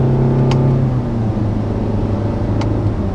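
A 2019 Nissan Altima with a CVT engine hums steadily from inside the car, steps through simulated gear changes and shows slight pitch shifts, with two brief ticks along the way.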